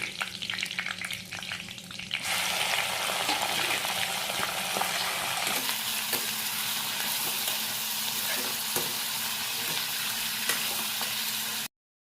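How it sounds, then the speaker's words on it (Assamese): Chicken meat tips into a hot pan for a Mishing chicken dish cooked with rice flour, setting off a loud, steady sizzle after a quieter start, with continuous frying crackle and no talk. "এতিয়া ইয়াতে দি দিম মাংসখিনি"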